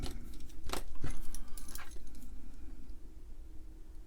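Wire-wrap wire being stripped and trimmed with small hand tools during a homebrew EPROM board build: a few light metallic snips and clicks close up, over a steady background hum.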